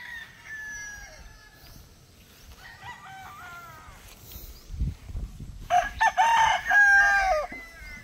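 A gamefowl broodstag rooster crows twice, a short call early on and a louder, longer crow near the end, heard close by over low outdoor rustling.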